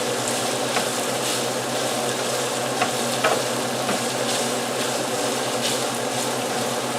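Calabrian bomba pasta sauce sizzles and fries steadily in oil in a pan on a home stove, a loud, continuous hiss with occasional stirring scrapes and soft pops.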